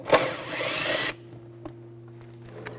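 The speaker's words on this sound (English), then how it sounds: "We're gonna take these two bolts out, use a 10 millimeter socket." A power tool with a 10 mm socket whirs loudly for about a second while removing bolts during radiator fan clutch work on a 2000-2006 BMW X5 3.0L inline-six, then stops, leaving a low steady hum and a few faint clicks.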